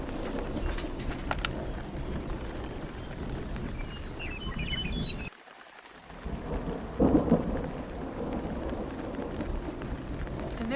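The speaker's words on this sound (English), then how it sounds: "It rains all night." Steady rain with rolling thunder rumbles through a bedtime story soundscape, a loud low roar that briefly drops out near the middle before a crack of thunder returns over continuous rainfall.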